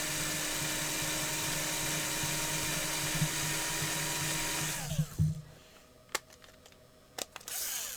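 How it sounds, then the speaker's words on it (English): A power drill cuts a countersink into a screw hole while fitting an automatic door bottom. It makes a steady, close, loud whine for about five seconds, then stops, followed by a few light clicks and knocks. "A little countersink on the other side."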